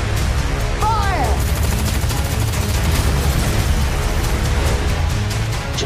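Heavy sustained gunfire in the Dredd film trailer, a loud continuous barrage of automatic shots and blasts filling the whole stretch, with a brief shout near the start.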